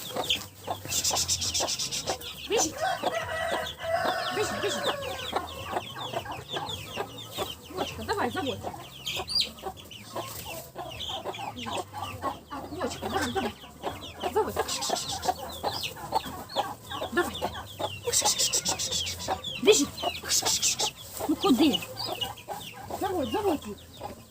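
A broody hen clucks steadily while leading her chicks around a vegetable garden, with repeated low clucks and high chick peeps close by, and a person speaking at times.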